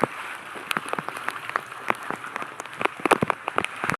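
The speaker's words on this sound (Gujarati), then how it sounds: "વરસાદ ધૂમ ધકાર ચાલુ છે," Steady rain pattering on a surface, with dense irregular drops and sharper ticks throughout, fairly close, no voices.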